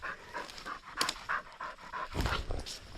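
A dog panting outdoors on a forest walk in Washington state, a quick regular series of close breathy huffs, with a louder rustling burst near the end.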